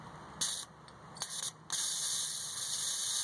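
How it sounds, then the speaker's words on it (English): Carb cleaner sprayed through a taped straw into a 240SX fuel injector, a close hiss in two short bursts followed by a longer continuous spray. "touch them to the injector while simultaneously pressing the carb cleaner"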